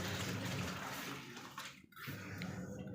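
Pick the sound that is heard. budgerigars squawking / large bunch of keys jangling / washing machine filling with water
washing machine filling with water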